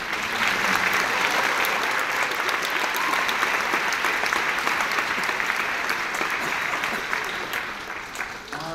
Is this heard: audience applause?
yes